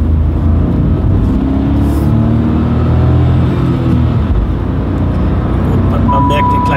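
A car accelerates hard from about 40 to 100 km/h, its engine note rising in a steady loud rumble with layered harmonics climbing over several seconds, and road and wind noise filling in underneath.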